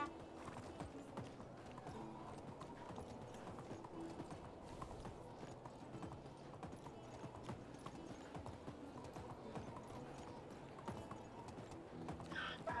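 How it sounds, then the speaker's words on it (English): Donkey hooves clip-clop in steady rhythm across a medieval village in Medieval Dynasty, with a horse-like whinny near the end and faint game ambience beneath. "Donkey, where are you? Let's grab the donkey."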